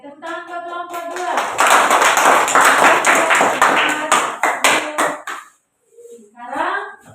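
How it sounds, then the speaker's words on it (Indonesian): A group of people in a classroom gives a burst of applause for a presenting team, building to steady loud clapping that fades out, followed by brief talk. "tepuk tangan ke kelompok 2"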